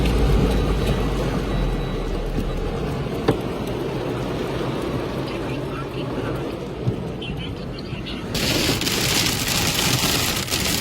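Heavy rain pours steadily during a Queensland thunderstorm on the Gold Coast, a dense, loud hiss on surfaces with a couple of sharp knocks, swelling brighter and harsher toward the end.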